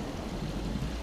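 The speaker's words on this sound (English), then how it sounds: "So you notice, it's raining." Rain falling in the video game Fallout 4, a dense, even hiss of heavy downpour with a low rumble beneath, steady and fairly loud for its whole brief length.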